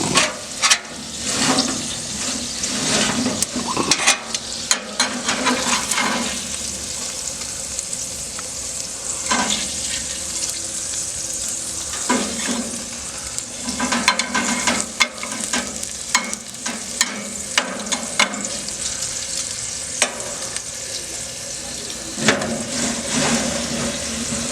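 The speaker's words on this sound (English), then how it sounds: "I'm gonna turn this steak." A US Prime New York strip steak sizzles loudly and continuously on an RV Works Cajun Bayou broiler, with sharp scrapes and clanks as it is turned and shifted.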